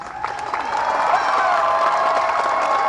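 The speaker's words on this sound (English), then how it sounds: "listen to the loud round of applause you hear from the audience." A loud round of clapping and crowd noise from an audience at a county fair show, building in the first second and holding steady, with chatter mixed in.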